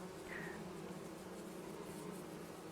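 Bees buzzing in the farming game Farming Simulator 25: a faint, steady insect drone holding evenly throughout, alone with no talk.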